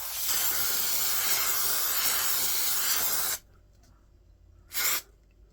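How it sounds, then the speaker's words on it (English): An aerosol can sprays onto a leather strop from a couple of inches away. A loud, steady hiss runs for over three seconds and cuts off abruptly, followed by one short, softer burst of spray. "So just literally get the can, give it a spray for a couple of inches away."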